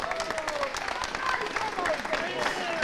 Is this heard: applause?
yes